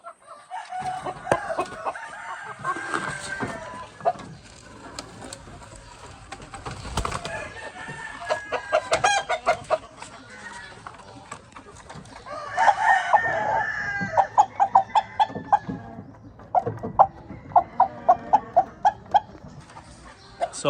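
White leghorn chickens on a farm cluck repeatedly, with a rooster crowing and occasional bursts of louder clucking over a busy, close-up yard background.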